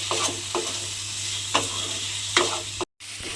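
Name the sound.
stirring fried potatoes into hilsa fish head masala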